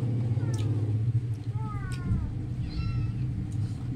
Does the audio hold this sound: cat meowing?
yes